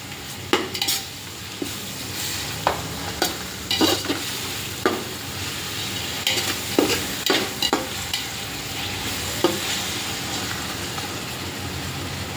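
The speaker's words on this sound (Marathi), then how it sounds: "पुदिन्याची जी मिरचीची पेस्ट केलेली आहे ती टाकून घ्यायची आहे। त्याच्याबरोबर छान परतून घ्यायची आहे।" Ginger, garlic, mint and green chili paste sizzles steadily in a pan while a spoon stirs and scrapes it, giving repeated metallic clinks over the constant frying hiss.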